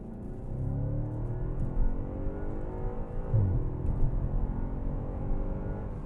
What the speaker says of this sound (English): we'll give you an idea of the acceleration of this on a straightaway in the auto position